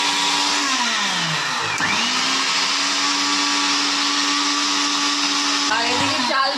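A mixer grinder whirs steadily while blending lentils into a paste, loud and close, its motor pitch dipping and recovering a couple of times as the load shifts.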